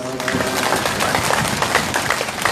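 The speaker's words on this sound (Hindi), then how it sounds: "अपने हाथों से आनंदित होते हुए, ताली बजाते हुए" Rhythmic hand clapping from a group gathered for yoga and meditation chanting, steady repeated claps filling the space at close range.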